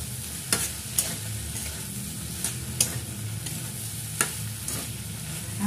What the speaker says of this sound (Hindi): लो मीडियम आंच रे फ्राए करद